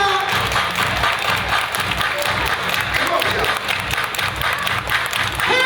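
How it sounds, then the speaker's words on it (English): A crowd at a party claps their hands in a steady rhythm while a voice urges them on over the clapping, with music and chatter underneath. "Everybody clap your hands."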